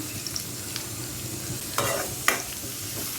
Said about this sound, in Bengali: আমি একের তেলের মধ্যে পেঁয়াজ রসুন দিয়ে দিচ্ছি